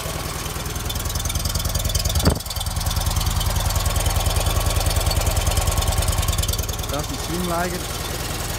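A Fiat 126P engine idling after an oil change, with a steady, loud, rhythmic putter throughout and a few brief bits of speech over it.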